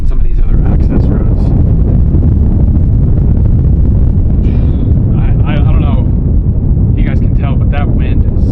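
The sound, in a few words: strong wind at a high-altitude fire lookout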